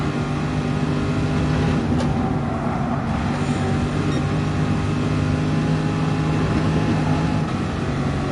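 Car tires sliding and screeching in a PS4 racing video game, a continuous loud engine drone with a sustained tonal squeal over the whole stretch, no talk.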